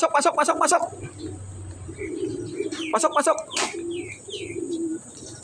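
Pigeons coo softly in low, rolling calls while other birds chirp and a person speaks nearby.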